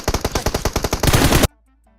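Rapid automatic gunfire in PUBG Mobile, about a dozen fast close shots in a steady burst, merging into a denser roar before cutting off sharply into near silence.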